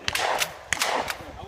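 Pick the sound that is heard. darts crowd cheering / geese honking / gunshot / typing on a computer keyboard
gunshot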